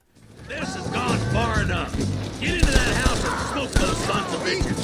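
Gunshots ring out in the Red Dead Redemption video game, a few sharp loud reports amid mixed game sounds, with character voices talking over much of it.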